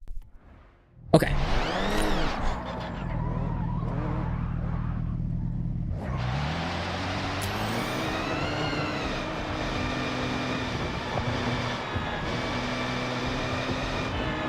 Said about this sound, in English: Big skids, big skids